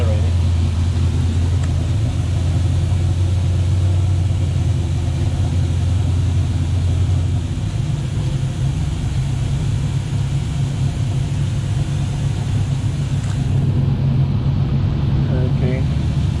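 Inboard engine of a Luhrs 28 boat idling as it warms up, a loud steady low rumble and drone close by, with a voice speaking over it.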